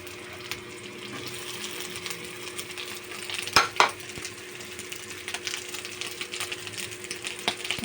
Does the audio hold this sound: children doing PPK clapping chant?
no